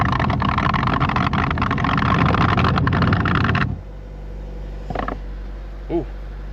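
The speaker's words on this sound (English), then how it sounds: "does your car sound like that? It's likely it's a blower motor." A faulty blower motor in a 2019 Chevy Trax makes a loud mechanical whirring drone that runs steadily, then cuts off abruptly, leaving a low hum with a few faint clicks and squeaks.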